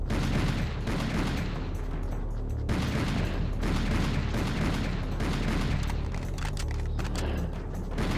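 Continuous rapid gunfire from an unlimited-ammo gun in a video game, dense and loud throughout with booming low-end bursts and no pauses.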